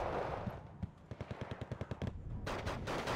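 Automatic rifle fire from infantry carrying STG 943 rifles in the Wargame: Red Dragon strategy game, heard as a rapid string of sharp bursts at mid distance, with a louder volley joining near the end.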